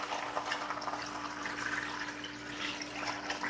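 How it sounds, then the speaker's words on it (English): Water runs steadily into a large pot of beans to make a simple soup, a continuous hiss and splash at moderate level with no talking. "I'm going to add a whole bunch of water"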